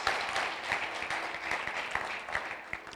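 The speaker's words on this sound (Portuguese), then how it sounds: "Você pode aplaudir o Senhor?" Church congregation applauding during a service, a continuous spread of many hands clapping at a moderate, somewhat distant level, with occasional louder individual claps and a faint voice blended in.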